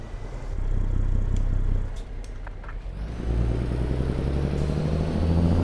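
Heavy truck engine with modded sounds in a trucking video game, a steady low rumble and road noise that swells again after a brief dip, with faint clicks and tones on top.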